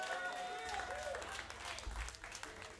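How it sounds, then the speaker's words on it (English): Concert crowd applauding at a live band show at The Funky Biscuit in Boca Raton, Florida, a dense wash of clapping under a low humming bass tone and a talking voice. "Give yourselves a round of applause."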